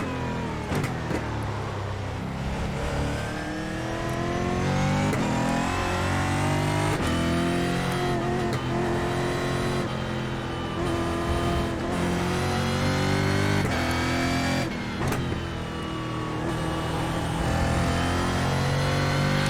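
Stock car engine in iRacing at Laguna Seca, a loud, continuous high-revving roar with rising pitch sweeps through gear changes and throttle lifts, close and dominant.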